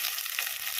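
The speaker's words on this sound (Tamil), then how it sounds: "இப்போ வந்து நல்லா வெங்காயம் வதங்கணும்." Onions and curry leaves frying in a pan for a Tamil fish curry, a steady bright close sizzle with no pauses.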